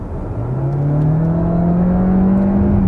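A 2021 Volkswagen Tiguan facelift hybrid, pairing a 150 horsepower petrol engine with a 115 horsepower electric motor, accelerates steadily, its loud engine tone climbing smoothly under a constant road rumble, with no talk.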